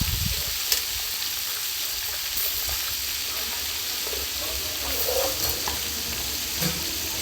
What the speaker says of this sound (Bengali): এখানে ওই ইলিশ মাছগুলো ভাজাভাজি চলছে, এখনও চলছে।